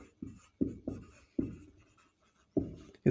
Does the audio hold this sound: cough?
no